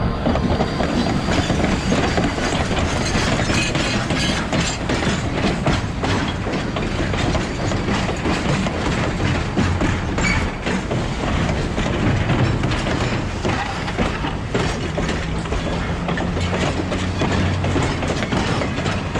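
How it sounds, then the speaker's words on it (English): An Oregon Coast Scenic Railroad train with an engine built in 1912 rolls steadily past close by, a continuous loud rumble with clickety-clack wheel rhythm and occasional squeals over nearly twenty seconds. "There's an Oregon coastal scenic train right here."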